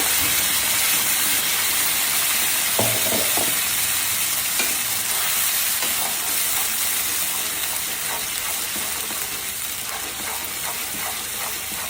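Masala with ginger garlic paste being sautéed and stirred in a pan for chicken curry, giving a steady broadband sizzle with a few soft scraping stirs, close and continuous with no talking.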